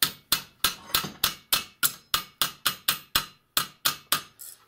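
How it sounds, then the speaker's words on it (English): A mallet taps a steel bicycle spoke clamped in a bending jig, about fifteen sharp, evenly spaced strikes close by, each ringing briefly before the next. "So you just tap it with a mallet"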